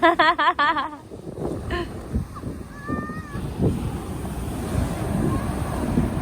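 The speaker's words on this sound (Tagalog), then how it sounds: "Lakas ng alon." Surf at Onjuku beach in Japan rushes and rumbles close by with wind buffeting the microphone, while voices shout and laugh over the waves at the start.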